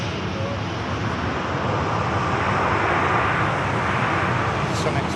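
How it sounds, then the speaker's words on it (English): A SunExpress airliner taxiing past gives a broad, steady engine rumble and roar, fairly loud and close, with wind noise on the microphone and a person talking over it. "Sun Express taxiing past us."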